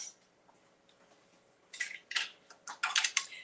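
A spoon clinks and scrapes against a dish with fruit in a home kitchen, several quick bright taps near the end after quiet, close and moderately loud.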